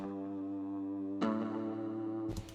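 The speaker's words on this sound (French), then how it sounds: "Puis, mettons qu'on se met du reverb." Sustained synth chord in Ableton with reverb added, rich harmonic tones that shift to a brighter voicing midway and end on a burst, steady and fairly quiet with no one speaking.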